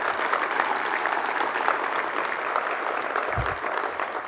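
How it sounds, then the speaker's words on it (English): A crowd applauds an honoree at a winter sports awards event, steady close clapping sustained for several seconds with a low thump partway through. "Please give Tommy Self a big round of applause."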